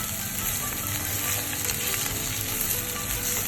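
Garlic frying in oil for Bisaya-style leaf adobo, a steady close crackling sizzle that holds evenly throughout with no talking.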